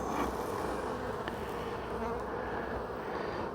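Honeybees buzz from an open hive in a steady dense drone, close and continuous throughout, with a person speaking briefly over it.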